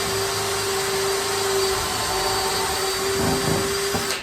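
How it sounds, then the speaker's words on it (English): A power drill whirs steadily at high speed with a constant whine, its tone shifting slightly as it bites into wood near the end. "I'm gonna go ahead and drill those bottom holes"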